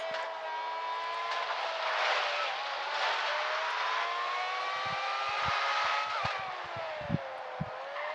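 A race car's engine roars around a track during handling testing in a role-play driving game, revving steadily with rising and falling pitch and a few sharp thumps near the end.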